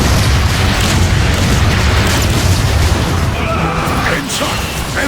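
Heavy booming explosions from warp cannon shelling in a Transformers video game, a dense continuous barrage of loud blasts and crashes filling the whole clip.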